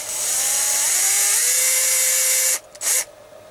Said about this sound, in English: you can see the drill has started